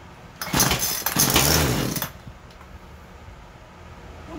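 A small two-stroke weedwacker engine buzzes loudly for about two seconds, a raspy, revving drone, then drops away to a faint low hum.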